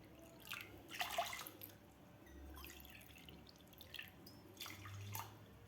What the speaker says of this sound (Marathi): तर यामध्ये घालायचे आपल्याला दोन वाट्या पाणी